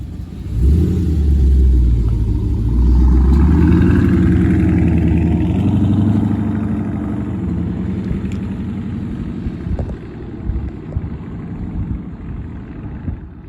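Dodge Charger Scat Pack V8 engine revving and rumbling as the car drives off, loud and deep at first, then easing to a lower, steadier drone.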